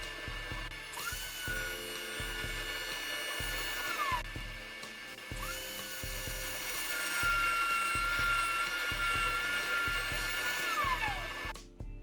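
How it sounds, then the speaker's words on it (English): A router bit cuts the sides of plywood panels in repeated passes, its high whine rising and falling as each piece is fed through, with brief pauses between cuts. "I run the sides through the bit in multiple passes until it is wide enough for my test piece of plywood"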